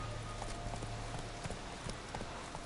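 Rhythmic hoof clip-clop of Roach, a horse in The Witcher 3 on Skellige, galloping steadily at close range over a low game ambience, with no talk.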